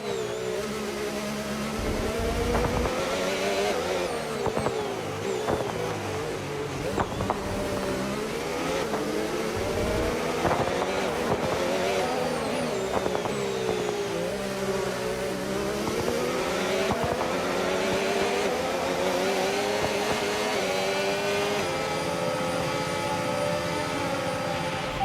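A McLaren Formula 1 car in a racing video game at the Mexico City Grand Prix screams close and loud, its engine pitch rising and falling steadily through gear shifts.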